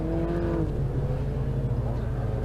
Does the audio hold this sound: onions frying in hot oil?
no